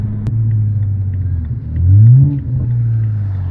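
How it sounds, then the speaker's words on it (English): A 2020 Toyota Supra downshifting on its paddle shifters gives a loud, low engine rumble that swells into a brief rising blip near the two-second mark before settling back to a steady drone. "Nasty freaking downshifts."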